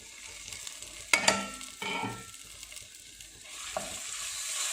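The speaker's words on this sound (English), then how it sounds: "Our oil is nice and hot. I'm going to add the spices all together." Spices hit hot oil in a pan for white peas chaat, bursting into a loud sizzle with sharp crackles that settle into a steady frying hiss, joined by stirring.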